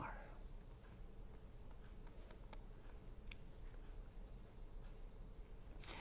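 Hand drawing of an ideal transformer diagram, with a pen or chalk making a steady run of faint scratching strokes and light ticks across a quiet room, no talk.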